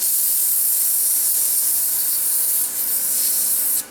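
A wood-turned globe Christmas ornament spins against 120 grit abrasive, giving a loud, continuous, close abrasive hiss that holds steady before briefly dipping and then cutting off just before the end.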